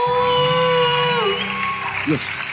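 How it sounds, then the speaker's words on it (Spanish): A live talk show audience in Cartagena whoops, cheers and applauds together, a loud, full crowd roar with sustained tonal sounds and voices mixed through it. "Un aplauso de Cartagena."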